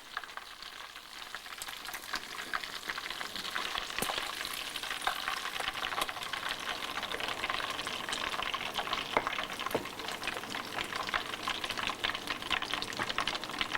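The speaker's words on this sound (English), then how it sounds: "Try and fry them in batches so that they are evenly coated" Indo Chinese fried rice ingredients frying in hot oil in batches, a steady bright sizzle with scattered crackles and pops, fairly close and alone, with no talk.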